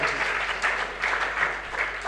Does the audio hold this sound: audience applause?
yes